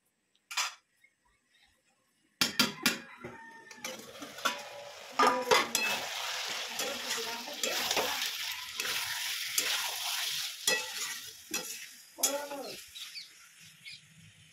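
Chicken is stirred in a pan, with irregular metal scrapes and utensil clinks over a soft continuous sizzle, close and fairly loud, in short bursts separated by brief pauses.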